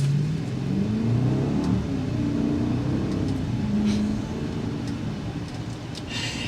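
A 2024 Mercedes-Maybach GLS600 pulls away from a green light, its engine giving a smooth, rising drone that stays steady and muffled from inside the cabin.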